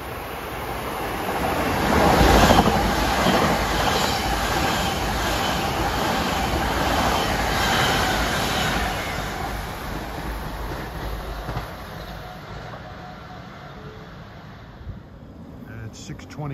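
An LIRR M9 train, number 1017 running Ronkonkoma to Penn, rushes past Carle Place on the triple track, a loud sustained roar peaking early, then a long steady rumble that fades toward the end.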